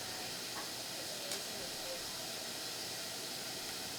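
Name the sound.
water boiling and steaming in a steamer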